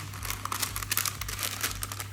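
A piece of plastic Glad bag is folded into a cone, giving close, busy crinkling and crackling throughout with irregular sharp rustles, no speech.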